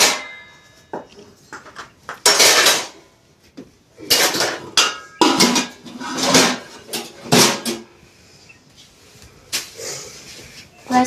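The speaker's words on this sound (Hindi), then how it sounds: "मैं बर्तन उठा देती हूँ" Steel dishes and utensils clatter and clank in bursts as they are gathered up after a meal in a village kitchen in India, with repeated loud metallic knocks and scrapes, close by and without talk.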